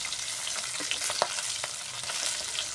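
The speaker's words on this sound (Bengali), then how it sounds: "এই মাছগুলো ভাজা হয়ে গেছে" Fish frying in a pan, a dense, continuous crackling sizzle heard up close with a few faint scrapes and pops scattered through it, steady in level and free of any voices.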